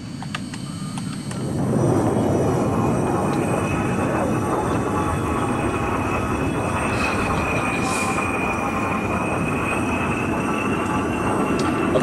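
A jet aircraft in the video game Arma 3 roars into a loud, steady broadband rush after a quieter opening, holding a constant engine drone with a faint whine on top.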